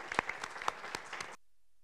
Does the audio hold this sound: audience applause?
yes